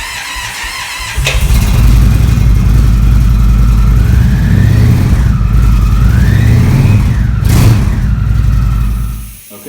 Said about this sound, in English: So I'll let the engine run for a little bit.